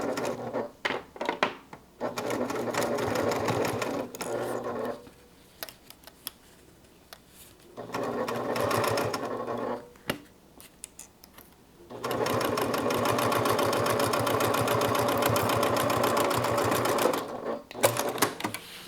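Sewing machine stitching a fabric bag seam up half an inch after a turn, running in several steady bursts separated by short pauses, close and loud.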